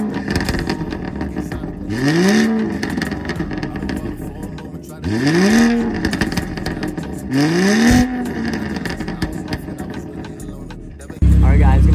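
A BMW 340i with a B58 engine and a VRSF downpipe gives three sharp rev blips a few seconds apart, each rising and falling. It sounds loud and close, with a low idle rumble between the blips.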